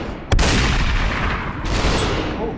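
A sharp, loud gunshot bang from SUPERHOT VR gameplay, followed by a rushing burst of noise and a second swell, close and without talk.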